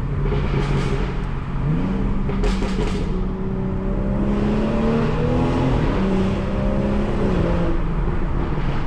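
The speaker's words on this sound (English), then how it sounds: "When we get in there, probably do a couple downshifts." A 2018 BMW 440i xDrive engine revs and downshifts inside a tunnel in New York City, loud and close with rising and falling engine pitch and echoing roar throughout.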